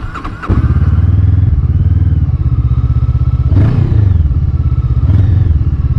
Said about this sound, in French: on va commencer par écouter le bruit de la bécane